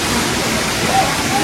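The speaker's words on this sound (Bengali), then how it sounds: "ঝর্ণাটা সম্ভবত সামনে" Waterfall in Mirinja Valley after rain, its water flow heavy, roars as a dense, steady rush of close water noise with no breaks.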